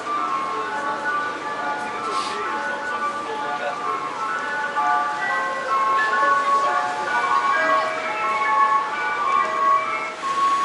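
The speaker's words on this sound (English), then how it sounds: "There's an ice cream truck doing brisk business in February." An ice cream truck on Roosevelt Avenue in Jackson Heights, New York City, plays its jingle continuously and fairly close, melodic and steady over street noise, with faint voices in the background.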